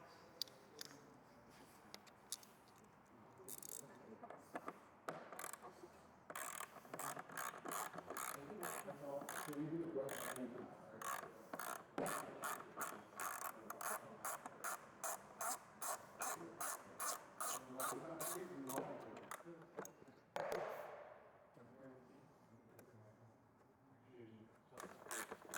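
A ratcheting driver fitted with a Torx 20 bit removes hinge screws from a motorcycle saddlebag during a carbon fiber clamshell bag cover install, making long runs of rapid, close clicking with short pauses between them.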